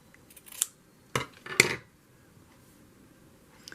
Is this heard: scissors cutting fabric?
yes